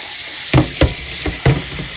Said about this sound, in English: And now I just simply rinse it out.